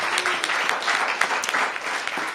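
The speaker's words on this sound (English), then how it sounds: "we can clap for that" Audience applause at a mayoral bill-signing ceremony for a clean energy law, a steady dense wash of clapping filling the whole moment, fairly loud with no break.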